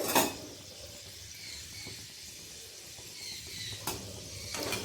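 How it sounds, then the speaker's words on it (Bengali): Mung dal and chana dal frying in hot oil in a strainer held in the pan, a soft steady sizzle throughout with occasional sharper bursts and light clinks of the utensil, no talking. "একটু সময় ধরে ভেজে নিতে হবে ছাঁকনিটা তেলের মধ্যে রেখে ওপর থেকে অল্প করে দিয়ে ভেজে নেব"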